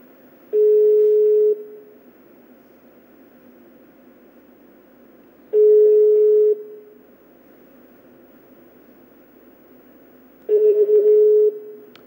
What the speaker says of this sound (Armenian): որևէ մեկը այդ երեքից, ում մենք փորձում էինք, չպատասխանեց զանգերին